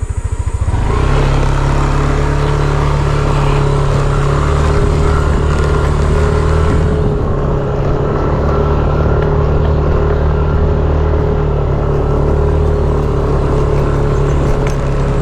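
A freshly repaired motorcycle engine runs steadily and loudly up close, holding a constant idle-to-mid rev drone throughout with no talk over it.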